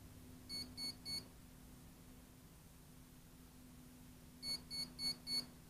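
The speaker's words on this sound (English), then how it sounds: "wait for it to acknowledge the 4S battery, which is 4 beeps." A drone's ESC on a Tarot 680 build beeps during throttle calibration: three quick tones, a pause with low hum, then four evenly spaced beeps acknowledging a 4S battery.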